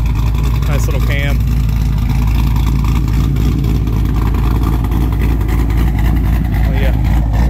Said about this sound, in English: Oh yeah, a little quarter throttle pull.